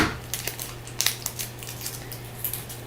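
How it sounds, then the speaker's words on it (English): Scissors snip off excess packaging tape, a series of small, crisp close-up clicks and cuts over a low steady hum, fairly quiet, with no voices. "I'm just going to cut off the excess"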